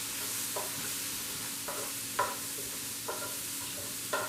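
Garlic browning in a pan: a soft, steady sizzle runs beneath several distinct scraping stirs of a wooden spoon, spaced roughly a second apart, fairly quiet and close.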